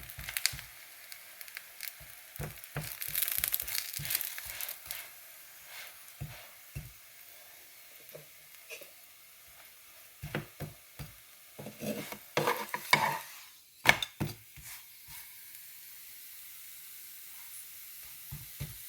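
Ripe banana snack frying with coconut in a pan, with intermittent stirring and scraping strokes over a soft sizzle, busier and louder toward the middle and end.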